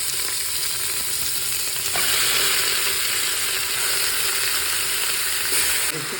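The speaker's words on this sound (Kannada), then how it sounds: "ಇದಕ್ಕೆ ಮಟನ್ ಹಾಕೋಣ" Mutton fries with onions in oil and ghee, a dense, loud, unbroken sizzle with occasional scraping as it is stirred, heard up close before cutting off at the end.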